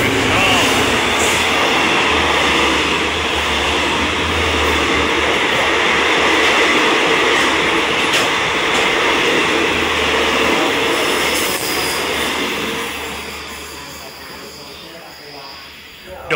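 Thai express train No. 13 rushes past Chum Saeng station, a loud, sustained roar of wheels and rail clatter up close that gradually fades as the train moves away, with someone talking over it.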